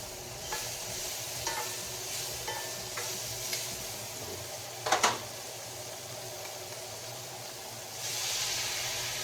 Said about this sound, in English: Then add in your shrimp and your lobster and saute.